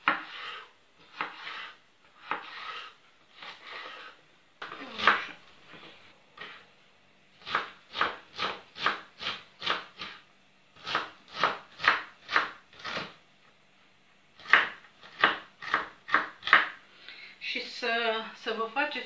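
A knife slices capia peppers into strips on a board, with quick rhythmic cutting strokes in several bursts, following talk at the start and a clatter near the end.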